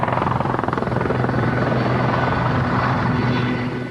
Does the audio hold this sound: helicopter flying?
yes